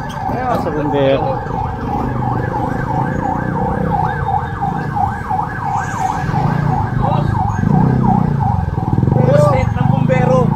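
A fire truck siren wails steadily in a rising and falling pattern, loud and close, with people talking over it throughout.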